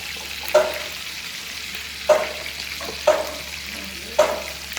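Fish frying in a pan gives a steady low sizzle, broken by four sharp clatters or stirs spaced about a second apart, with no voices.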